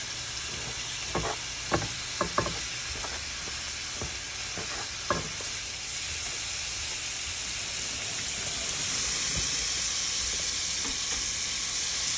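Onion frying in a soup pot for chicken noodle soup gives a continuous soft sizzle and hiss, with a handful of light stirring taps early on and the frying swelling slightly louder toward the end.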